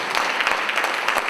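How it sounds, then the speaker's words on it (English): Brief, steady applause from an audience at a live Pan African talks event, a continuous wash of clapping with a few louder claps standing out. "give yourself a round of applause for getting here."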